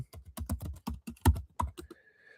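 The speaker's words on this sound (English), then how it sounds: "I'm typing it down here for everybody." Rapid, irregular keystrokes on a computer keyboard during a fishing and hunting livestream, a quick run of close, crisp taps over about two seconds before they stop.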